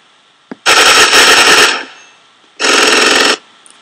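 Two loud bursts of automatic gunfire from a Call of Duty Zombies map played in Minecraft, the first longer and the second shorter after a brief gap, close and sharp with a faint click before.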